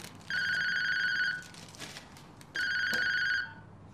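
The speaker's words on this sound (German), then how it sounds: "Telefon." A telephone bell rings in two long trilling bursts separated by a short pause, loud and close in a quiet room.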